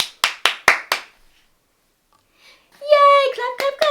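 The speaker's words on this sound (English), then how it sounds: "Clap, clap, clap." A small child claps four times in quick succession, with close, sharp hand slaps, followed by a pause and then an adult voice speaking brightly.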